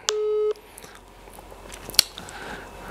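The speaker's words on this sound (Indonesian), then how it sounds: "kita telepon nih kalau diangkat" A telephone dialing tone at the start of an outgoing call: one steady half-second tone, then quiet line hiss with a single sharp click later on.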